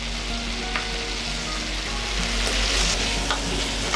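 Sofrito already mixed with wine fries in a seafood paella pan, giving a steady, dense sizzle with a few faint scrapes and clicks of stirring throughout, no voices.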